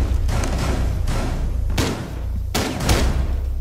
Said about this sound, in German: Die ist so krass geworden, die Pumpgun von Buck